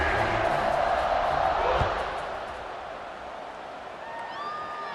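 Stadium crowd roaring in a college football video game, Cincinnati against Michigan State, a loud broadband swell of cheering that eases off midway and then lingers as a steadier murmur, with faint whistle-like tones near the end.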